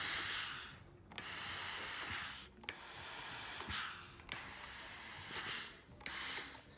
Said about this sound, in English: I just give it a good pressing, and a lot of steam.